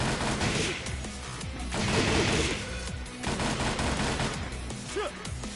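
Rapid bursts of gunfire in Tekken 7's first-person shooter mode, loud and dense, with repeated volleys and crashes layered under game music and effects, no clear voice.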